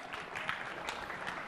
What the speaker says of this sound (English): thanks, you didn't need to applaud that